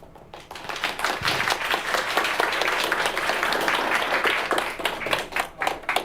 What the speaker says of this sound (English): They haven't clapped this whole time.